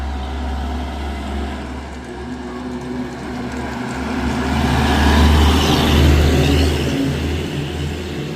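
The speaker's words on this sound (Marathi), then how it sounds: "बस आता या साईडने येतली" A bus approaches along a road on a cold, foggy morning, its low engine drone steady at first and then growing louder and nearer before easing slightly.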